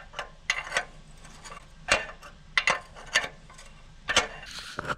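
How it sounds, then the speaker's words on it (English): Box wrench tightening an O2 sensor on a 1992-2000 Honda Civic, a close series of metallic ratchety clicks and scrapes in short uneven bursts over about five seconds, with no talking. "Now you can take your 7/8 or preferably 22 box wrench and tighten her down."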